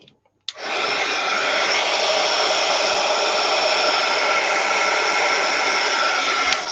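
A hair dryer blows on a watercolor pet portrait, switching on abruptly and then holding a loud, steady, close whoosh that runs unbroken, with no voices.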